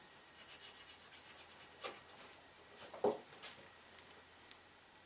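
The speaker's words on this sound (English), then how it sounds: "I like to take the blade of my knife and cut these edges off." A knife blade cuts the ends off a 550 paracord bracelet, making quiet rhythmic rubbing strokes followed by a few sharper isolated scrapes and snips, all close and faint, with no speech.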